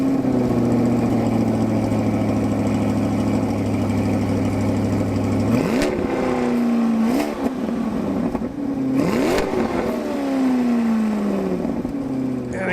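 A Chevrolet Corvette C8 Stingray's V8 engine idles with a deep, steady rumble through baffled exhaust, then revs sharply twice, the pitch swelling and falling back each time.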